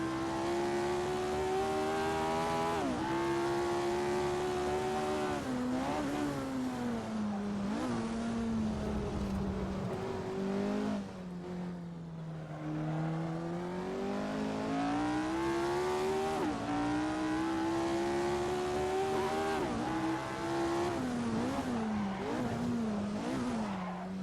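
A 1967 Formula 1 race car engine in a racing game drones continuously and loudly, its pitch rising and falling through gear changes and corners, with occasional tire squeal.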